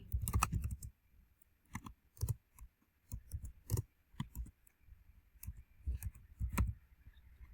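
A computer keyboard clacks close up while Python dictionary code is typed, in uneven bursts of quick keystrokes separated by short pauses.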